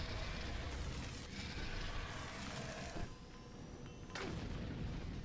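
Grenade explosions in the game Doom 3, a dense run of booming blasts and rumbling debris, moderately quiet overall with a sharp burst near the end and no speech.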